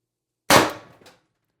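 A single sharp shot from a Umarex TR50 CO2 air pistol fitted with a tuning barrel and extension, a crisp close crack that decays quickly, followed by a faint metallic tick.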